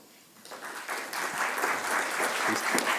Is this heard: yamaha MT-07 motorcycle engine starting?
no